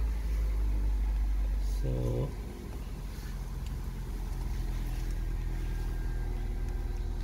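A Toyota Corolla Verso with a 1.8 VVT-i engine and a coolant leak idles close by, a steady low hum and rumble throughout, with someone briefly speaking over it.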